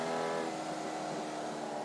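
Formula Vee race car in iRacing accelerating under full throttle, a steady buzzing engine note with layered harmonics, held close and constant for about two seconds, no voices.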